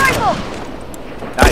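Gunfire in The Last of Us Remastered, with a loud shot at the start and another sharp blast at the end, separated by a quieter stretch with some talk underneath.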